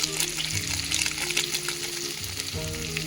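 Potatoes frying with spices in a pan make a loud, dense, continuous sizzle heard up close, with a faint tonal hum underneath.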